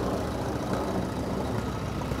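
A 1929 Model C engine from a steam and gas engine club runs in a Fourth of July parade, giving a steady low rumbling drone that stays loud and even throughout with no talk over it.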